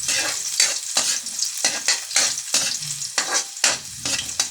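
Ginger and garlic sauté in a hot pan with repeated bursts of stirring scrapes over a steady sizzle, loud and close, with no voices.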